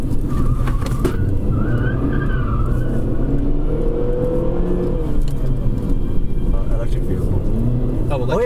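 A Honda CR-V cruises along a winding mountain road at the speed limit, with a steady engine and road hum heard from inside the cabin beneath ongoing conversation between occupants.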